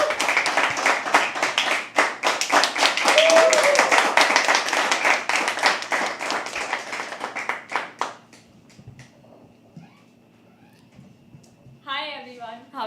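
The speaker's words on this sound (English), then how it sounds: "First ever performer for today, guys. Start clapping." An audience at a live poetry open mic claps for the first performer, brisk loud clapping for about eight seconds that then stops, leaving a quiet room before a voice begins speaking.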